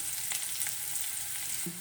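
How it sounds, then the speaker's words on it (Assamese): Onions with turmeric fry in a pan for Assamese butor dail, a steady close bright sizzle running throughout with a couple of faint stirring scrapes and a short tonal clink near the end, no talking. "এতিয়া আমি পিঁয়াজৰ লগত হালধিটো অকণমান দি দিছোঁ, ভাজি ল'ম"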